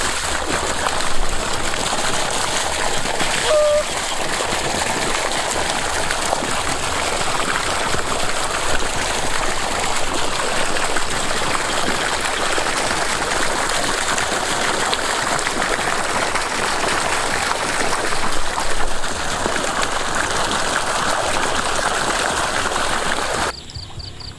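Water pumped from a river gushing out of a pump outlet, a loud, steady rushing flow that continues unbroken and then drops off abruptly at the very end.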